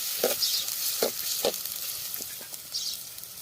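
Chopped onions sizzling steadily in hot oil for a Gujarati prawn recipe, with a few sharp scrapes of a spoon stirring through the pan; no one speaks.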